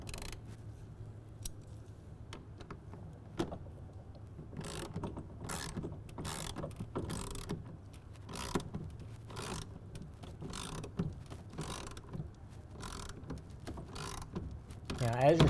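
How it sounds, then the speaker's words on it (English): A hand ratchet with a 1/2-inch socket tightens a clamp for an Undercover Fusion tonneau cover on a 2023 Ford F-250, giving a steady run of close, crisp clicks over a low background hum. "we're going to go ahead and snug it down with a 1/2-inch socket"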